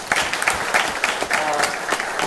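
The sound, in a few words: audience applause at a film festival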